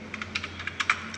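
Keys clacking on a computer keyboard while a narration is entered into a Tally accounting voucher, about ten quick, uneven keystrokes close up and fairly quiet over a steady low hum.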